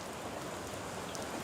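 Steady, dense rain in the Minecraft video game, a continuous even hiss of falling drops with no talk, filling the whole short stretch at a fairly low level.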